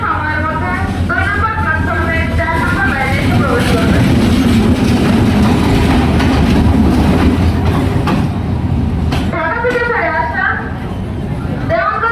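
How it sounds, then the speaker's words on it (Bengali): A Dhaka-bound intercity Jayantika Express train rolls into a station platform with a loud, continuous rumble and clickety-clack of wheels, while a public-address announcement plays over it. "এক দুই নম্বর প্ল্যাটফর্মের চার নম্বর লাইনে এসে প্রবেশ করবে ঢাকা অভিমুখী আন্তনগর জয়ান্তিকা এক্সপ্রেস ট্রেনটি"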